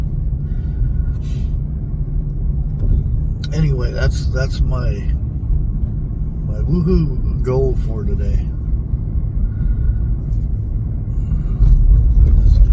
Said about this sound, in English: What is up with all the traffic?